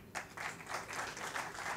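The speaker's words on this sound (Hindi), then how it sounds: "7-8 लोगों ने ताली बजाई है," A small group at a mushaira and kavi sammelan poetry gathering claps briefly, a faint, thin patter of a handful of hands rather than a full crowd.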